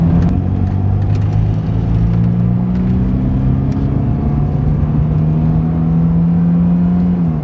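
A classic car accelerates hard on twisty racing roads during the Silverstone Classic RetroRun, its engine droning steadily and rising gradually in pitch, close and loud throughout.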